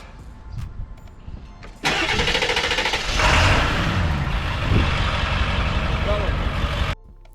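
A Subaru Impreza 2.5RS with a rusted undercarriage, prone to hard starting when warm, cranks briefly and then fires into a loud, steady close-up running engine that holds until it cuts off near the end.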